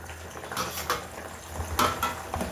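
A spoon clinks and scrapes against a pot as fenugreek seeds and black cumin are stirred into bubbling oil, with a few brief close knocks over a low background hum.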